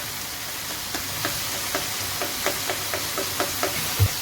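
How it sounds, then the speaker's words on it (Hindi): Garlic being fried in a pan for dhaba-style maash daal, a steady soft sizzle with a rhythmic series of light knocks as a spoon stirs and scrapes the pan, close and moderate in volume. "अच्छी तरह से भूनना है आपने, ताकि लहसुन जो है वो भी इसमें मिक्स हो जाए"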